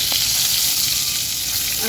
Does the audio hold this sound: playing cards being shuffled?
no